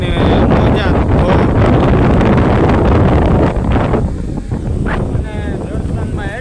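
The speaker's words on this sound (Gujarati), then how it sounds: "બહુ પવન એવો છે" Strong seashore wind buffets the microphone in loud, continuous rumbling gusts, and there are brief high tonal sounds toward the end.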